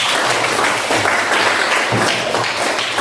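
Loud, sustained applause from a classroom audience, a close and continuous wash of clapping that holds steady throughout.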